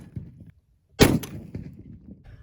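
A single booming 20mm Lahti L-39 anti-tank rifle shot cracks out loud and close, followed by a rolling echo and quieter rumbling tail after a brief hush.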